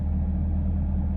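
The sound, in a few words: truck engine running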